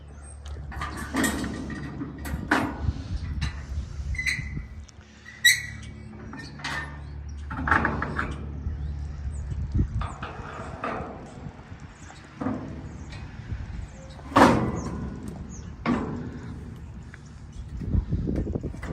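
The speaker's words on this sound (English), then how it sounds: "This particular model has ramp combo doors. Ed's going to show that to you, how this works." Ramp combo doors on a dump trailer being worked, with a series of metallic clanks, latch clicks and scraping bangs scattered irregularly over quiet outdoor background.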